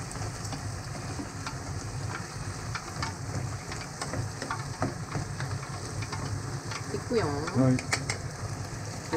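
Sizzling and frying of pumpkin mapo sauce as a starch-and-water slurry is stirred in, a steady bubbling hiss with scraping stir sounds and a brief spoken word.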